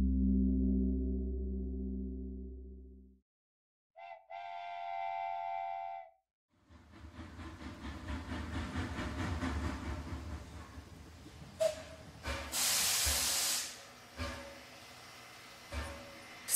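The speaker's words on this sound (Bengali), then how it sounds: "স্টেশনে ট্রেন থামতেই" Steam train pulling into a small station as a drama sound effect: a low rumbling tone, then a bright sustained whistle, followed by chugging, clanking and a loud burst of hissing steam as it halts.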